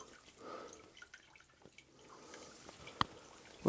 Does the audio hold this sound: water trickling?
yes